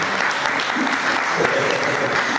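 Church congregation applauding and cheering during a sermon, a steady, dense wash of clapping mixed with voices that fills the whole stretch at even loudness.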